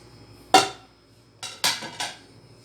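A spoon clanks against a metal cooking pot while meat and spices for aloo gosht are stirred, one sharp knock followed by three quicker scraping clatters, close up.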